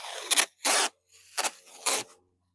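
Painter's tape pulled off the roll and pressed onto a wooden beehive cover for winter, four short, close ripping strips separated by brief pauses.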